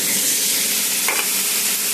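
Potatoes and eggplant frying with cumin and chili powder in a pan: a continuous bright, close sizzle with a brief stirring scrape near the middle, no voices.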